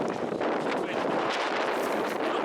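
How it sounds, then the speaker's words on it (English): Strong outdoor wind buffets the microphone in a continuous, rough, rumbling roar with slight surges, and no voices are heard. "Now the wind comes up"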